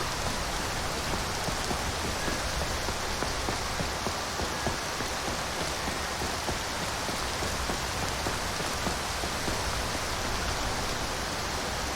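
Steady rain falls at night in the video game Skyrim, an even, dense patter of drops at moderate level with no voices over it.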